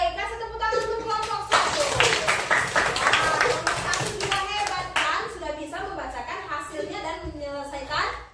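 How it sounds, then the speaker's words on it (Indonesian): Classmates clap for a student group in a school lesson, a burst of scattered hand claps rising mid-clip and running under children's and a teacher's voices. "kasih tepuk tangan untuk kelompok 1"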